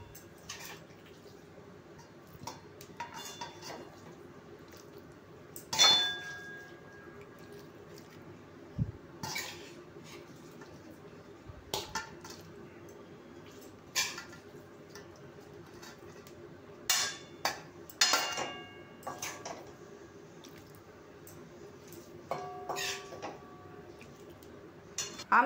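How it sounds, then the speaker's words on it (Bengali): Cabbage ghonto being served from a pan into a bowl, with intermittent metallic clinks and scrapes of a utensil against the pan, sparse and close over a quiet background. "আমি একটা পাত্রে বাঁধাকপির ঘন্টটা তুলে নিচ্ছি।"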